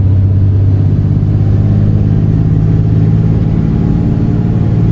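A city bus engine in American Truck Simulator, set in Acaponeta, Nayarit, drones loudly and steadily around 2000 to 2500 rpm before a gear change, a constant close rumble with no voices.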